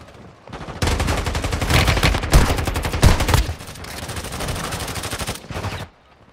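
Gunfire from a shotgun in the Warzone video game on Rebirth Island, with loud, dense bursts of shots that sometimes overlap and continue for about five seconds before stopping.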